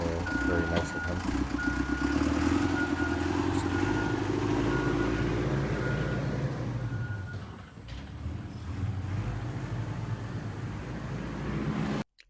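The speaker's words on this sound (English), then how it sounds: "I was fortunate enough to have that backhoe there." A backhoe runs steadily on a Costa Rica pool construction site, its diesel engine rumbling close and loud throughout, with intermittent reversing beeps sounding over it.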